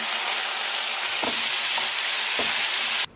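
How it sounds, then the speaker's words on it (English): Beef sizzling steadily in a hot oiled pan, a loud continuous fry with a few soft stirring scrapes, cut off abruptly at the end. "I'm going to throw my meat in here."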